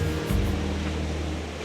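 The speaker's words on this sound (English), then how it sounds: "Nice waterfall though." A waterfall in the Mindo cloud forest of Ecuador roars as a steady, dense wash of rushing water, close and continuous, with no voices.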